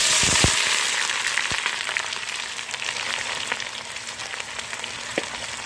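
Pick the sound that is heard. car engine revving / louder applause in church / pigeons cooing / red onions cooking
red onions cooking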